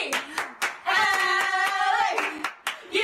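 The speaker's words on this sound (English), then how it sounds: "Let's keep that Bruin spirit going with an 8 clap." A crowd at a UCLA men's basketball game claps in unison, a short rhythmic eight-clap burst of sharp claps followed by a sustained cheer, then a few more claps; loud and close.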